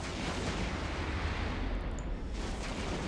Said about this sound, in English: And then finally he explodes.